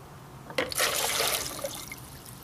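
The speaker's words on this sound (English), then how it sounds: "The water fills up. I pull it up out." An improvised PVC well bucket is pulled up out of the water, and after a short pause the water pours and splashes out of it in a sudden gush that trails off into a trickle.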